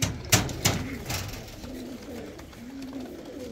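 High-flying pigeons at a home loft giving soft, low, repeated coos, with a couple of sharp clicks or flaps near the start and quiet background noise.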